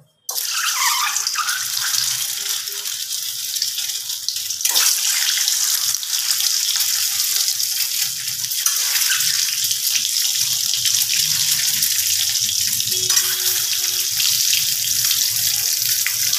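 Eggs fry in hot oil with turmeric in a pan, giving a continuous, dense sizzle that holds steady for the whole stretch, close and fairly loud, with no talking.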